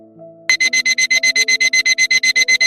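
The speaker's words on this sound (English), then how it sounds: "her alarm blared from somewhere under a stack of vintage quilts" A loud electronic alarm clock beeping in rapid, evenly spaced bursts after a soft tone, harsh and insistent.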